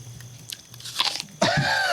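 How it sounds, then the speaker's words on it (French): An apple is bitten into with a loud, close crisp crunch, followed by a few smaller crunching chews in an otherwise quiet setting. "Elle croque une pomme qu'elle a fait apparaître dans sa main."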